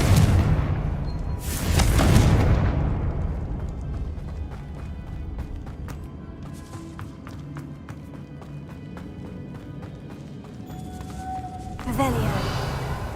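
A Confringo fire spell blasting in the Hogwarts Legacy video game, a loud booming burst near the start that fades into scattered crackles and taps, followed by another burst at the end, with speech in the background.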